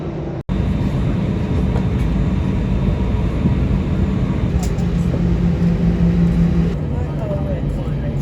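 Air Malta airliner taxiing toward takeoff, a steady broadband engine roar heard from inside the cabin, continuous and even throughout with a brief dropout near the start.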